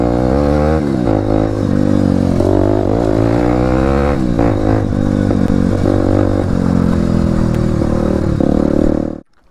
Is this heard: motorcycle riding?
yes